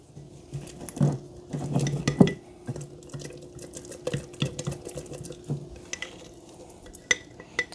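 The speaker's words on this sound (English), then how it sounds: "Give it a stir." A spoon stirs a jar of sourdough starter, with a series of close clinks and scrapes against the glass, loudest in a cluster early on and then sparser and softer taps.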